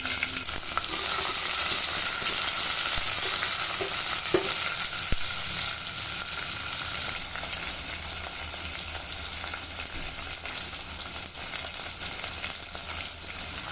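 Green chillies and onion fry in hot oil for Andhra-style sambar, giving a loud, continuous sizzle with a few light clinks early on. No one talks.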